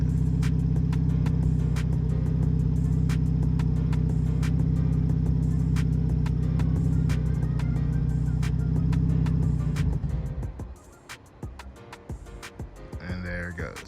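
A 1998 Integra turbo engine idles with a steady low hum, then dies out after its fuel pump is disabled, the drone fading into quiet with faint clicks and handling noise at close range.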